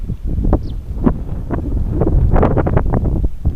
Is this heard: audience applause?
no